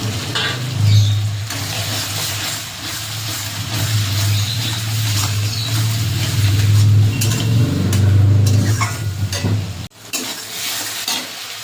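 Grated tomato goes into hot oil for a boal fish curry, setting off loud, close sizzling and frying with stirring scrapes and a low steady hum throughout, ending in a sudden clatter.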